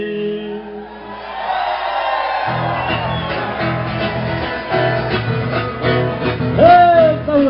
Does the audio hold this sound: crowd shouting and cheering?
yes